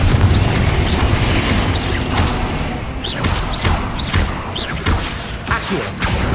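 Confringo spell explosions in Hogwarts Legacy, a string of booming bursts and thuds over a busy combat din, several hits spaced a second or so apart.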